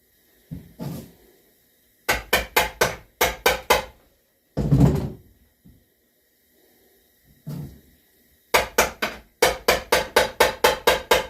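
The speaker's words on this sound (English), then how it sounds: "A hammer here." Sharp metallic hammer taps come in quick bursts of three to eight strikes, separated by pauses and a couple of louder rustling knocks, while mounting a striped bass (rockfish).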